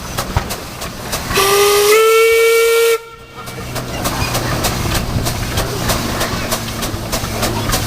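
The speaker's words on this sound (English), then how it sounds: "How about a whistle there, Travis?" A loud whistle on a 1919 Emerson Brantingham steam engine sounds one steady blast of about a second and a half, then cuts off, leaving the chugging, hissing engine running nearby.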